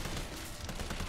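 A short, dense burst of gunfire in Resident Evil 3, rough and crackling, with shots running together across about a second at steady loudness and no voice over them.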